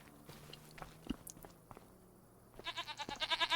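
Goats in the farm game Farming Simulator 25, their bleats building into a rapid, loud run of repeated calls near the end, after quieter scattered animal noises and chewing-like ticks.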